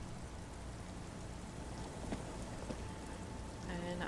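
Steady rain falls in the Disco Elysium video game, a constant dense hiss with faint rumbles and no speech.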